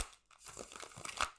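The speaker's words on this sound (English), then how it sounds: "just to give you guys some confirmation that I'm shuffling" Cards shuffled by hand during a tarot pick-a-card reading, giving a close, quiet run of papery riffling and crinkling that builds toward the end, with no talk.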